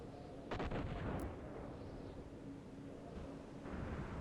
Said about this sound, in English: Hoping that was the ship exploding and not something shooting at us